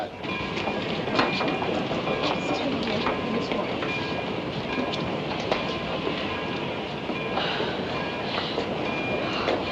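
A passenger train arriving at a station rumbles steadily with rhythmic rail clatter and occasional metallic squeals, sustained and fairly close, no voices standing out.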